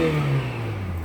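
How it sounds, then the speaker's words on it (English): A 2000 Honda Accord Wagon SiR's H23A VTEC engine revs up briefly and then settles back, a short mid-pitched roar up close. "let's do some engine revs"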